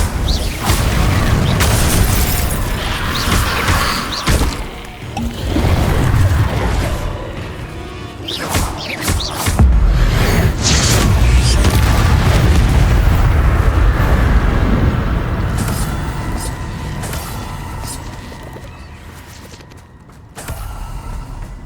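Confringo explosive spell cast in Hogwarts Legacy, a loud sustained run of booming blasts and crashing rumble with creaks and debris, continuing heavy for most of the stretch before tapering near the end.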